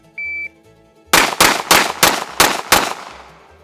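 Five sharp pistol shots from a Sig P320 at a live firing range, fired in a quick, slightly uneven string, each loud crack trailing into a short ring; a brief electronic beep comes just before the first shot.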